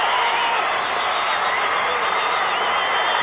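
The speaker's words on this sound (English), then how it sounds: "Listen to that crowd." A football stadium crowd at a 1984 Wyoming Cowboys at BYU Cougars college game roars in a dense, loud, sustained wall of cheering with no break.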